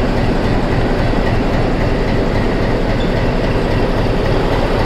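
The Ooty heritage steam toy train on the Nilgiris line rumbles along with a steady, loud roar of wheels and carriages, close by and continuous with no voices.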